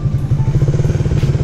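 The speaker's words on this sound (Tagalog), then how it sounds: "ibibirit mo yung motor hanggang sa makuha nila yung limit bawat gear." A motorcycle engine revved hard toward each gear's limit makes a loud, close, rapid pulsing drone with a steady throb throughout, and nobody talks over it.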